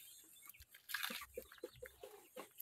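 Pet chickens cluck in short, irregular bursts, fairly quiet and close, in a hot-weather farmyard where some of the birds are ailing.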